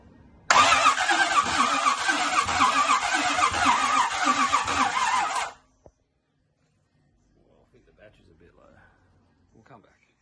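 Chevrolet 350 V8 cranking on the starter at first start-up without firing, a loud rhythmic churning for about five seconds that cuts off abruptly, followed by quiet talk.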